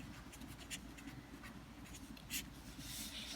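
Pen or pencil writing on paper while a trigonometry table is drawn up, with soft scratchy strokes in short bursts, one firmer stroke near the end, close and quiet with no talk.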